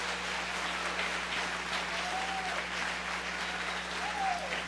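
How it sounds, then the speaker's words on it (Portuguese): A church congregation applauds, a soft continuous wash of clapping heard from a distance, fairly faint and even throughout with a low steady hum beneath it. "Uma salva de palmas mais forte para essas pessoas que estão discipulando outra pessoa."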